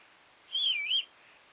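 A rising and falling whistle from the player character calling a horse in Kingdom Come: Deliverance, one clear half-second call heard alone against a quiet background.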